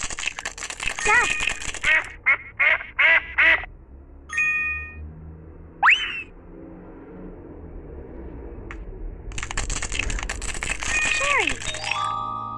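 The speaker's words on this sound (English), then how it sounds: "Duck." A cartoon duck quacks in a children's learning game, a quick run of short nasal calls near the start. Scattered chimes and swoosh effects come after, then a bright jingle.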